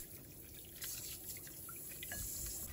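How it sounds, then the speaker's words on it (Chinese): Tap water runs steadily into a basin as raw chicken is rinsed under the flow, a close, continuous splashing wash with no voices. "用流动水给它清洗干净"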